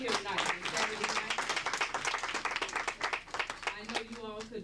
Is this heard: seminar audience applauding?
yes